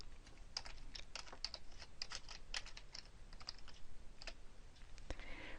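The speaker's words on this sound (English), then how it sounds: "Click in the box inside and type the text that you want to put in." Keys on a computer keyboard are tapped in a quick, uneven run of light clicks, heard close and fairly faint with no talking.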